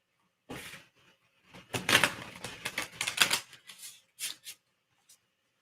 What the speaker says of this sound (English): we didn't even use this deck last time, but we'll shuffle it all the same